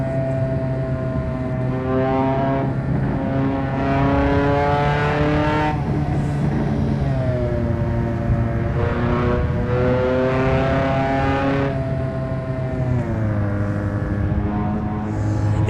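Sustained harmonic engine drone of a car driving on the Tokyo elevated expressway in the video game Shutoko Revival Project, pitch rising and falling smoothly through gear changes, loud and steady throughout with no talking.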